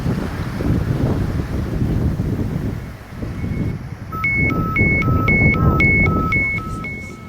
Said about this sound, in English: Soon, the wind picks up and the waves grow bigger.